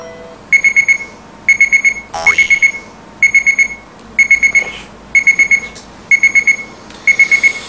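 An alarm clock rings in repeated bursts of fast electronic beeps, about one group per second, loud and close, with a brief rustling handling noise partway through.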